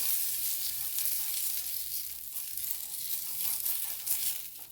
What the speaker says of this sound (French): Je me sers là du beurre. Voilà, avec à l'aide de mon pinceau. Je vais beurrer la poêle.